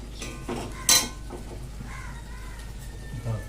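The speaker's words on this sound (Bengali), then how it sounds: "প্লেট দিচ্ছি, দাঁড়াও এখন।" Plates and dishes clink as they are set out for a home meal, with a single sharp ceramic knock near the start and a few softer rattles against faint background ambience.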